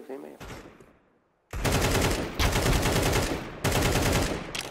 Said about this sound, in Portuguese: Você dá tiro, o tiro não pega.